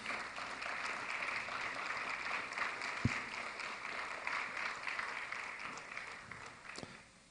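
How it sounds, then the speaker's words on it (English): An audience at a mayoral candidate town hall applauds the candidates, continuous moderate clapping heard at some distance with a single sharp knock partway through. "let's give them all a round of applause one more time"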